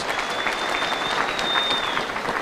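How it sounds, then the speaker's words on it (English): A congregation at a church service claps for prisoners in attendance, a dense, steady burst of many hands applauding throughout, with a faint high whistle-like tone running over it. "Let's give them a clap."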